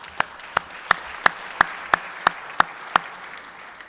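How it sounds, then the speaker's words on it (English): Rhythmic, evenly spaced claps at a Rotary Club meeting honoring members' birthdays, about nine distinct sharp hand claps in a steady beat over a quieter background of scattered applause. "So how about a round of applause for our birthdays?"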